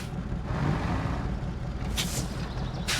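A truck's air brake handbrake engages in the Mudrunner video game, a short pneumatic hiss and release burst over a steady engine rumble.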